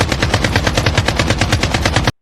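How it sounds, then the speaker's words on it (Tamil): Rapid automatic fire from an AK-47 rifle, a steady rattle of roughly twenty close, loud shots at an even rhythm for about two seconds, then a sudden cutoff. "அடுத்து AK-47."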